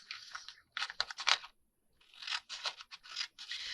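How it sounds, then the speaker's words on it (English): Scissors cut along a fold in paper in two short bursts of close, crisp snipping and rustling, with a brief quiet gap between them. "we're going to cut this where we folded"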